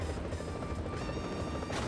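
A helicopter in the video game No More Heroes 2 roars loud and close, its dense rotor and engine noise filling the whole stretch without pause.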